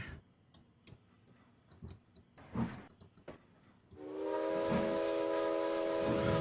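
A diesel locomotive from the Trainz simulator, a Chesapeake and Ohio coal run, moves through clanks and bumps, then its horn sounds loud and steady for several seconds, with no talking.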